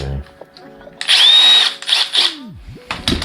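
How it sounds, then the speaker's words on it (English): A cordless drill whirs loudly for about a second, then spins down with a falling whine before brief bursts of whirring resume, heard close up. "So that's the fuel drill."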